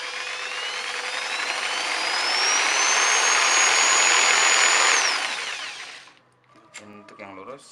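A Modern M 2200L jigsaw runs at speed setting 1 with a loud, steady whine that climbs slightly in pitch, then winds down and stops, followed by brief speech.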